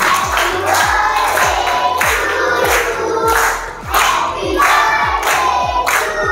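A group of school children clap in rhythm at a Marathi school event, a loud, close, regular beat of many hands striking together, with crowd noise and chanting voices running underneath.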